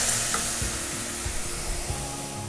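Paneer is stirred into a tomato gravy frying in a pan, giving a steady loud sizzle with soft, irregular thumps and scrapes from the spoon.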